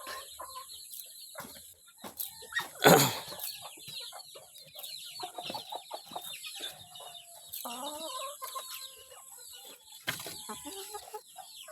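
Farm fowl including Muscovy ducks, with chickens clucking and a rooster crowing, in a busy barnyard chorus of overlapping calls near and far, one loud burst standing out early on.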